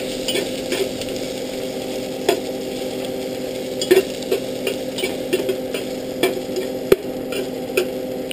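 Ginger browning in a pan gives a steady sizzle, with scraping stirs and occasional sharp clinks of a utensil against the pan throughout, and no talking.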